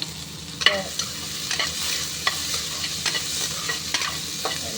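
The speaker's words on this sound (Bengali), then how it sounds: "আমার দেখো পেঁয়াজ আর রসুন ভালো করে ভেজে নিয়েছি।" Onion and garlic frying in very hot oil, a steady dense sizzle with repeated sharp scrapes and clinks of stirring in the pan, close and fairly loud throughout.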